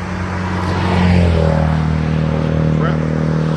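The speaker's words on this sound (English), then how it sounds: "Let's make sure this car isn't flying up this way, and it is." A car speeds past on a road, a loud, close engine roar that swells and holds steady over a broad rushing noise.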